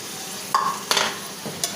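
Baim eel fish frying in a spice paste, with a soft sizzle broken by a few sharp scraping stirs, close and brief, no voices.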